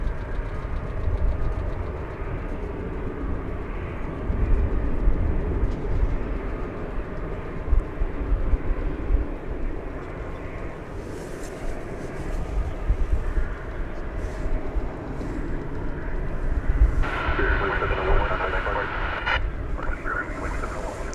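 An airplane at DFW Airport makes a low, continuous engine rumble at a distance that swells partway through, with some faint background noise.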